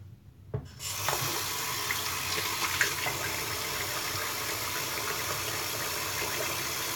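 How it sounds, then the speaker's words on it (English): A bathroom tap opens and water gushes steadily into a sink for rinsing a razor, a close, continuous broadband rush after a brief quiet start. "Rinse the razor real quick"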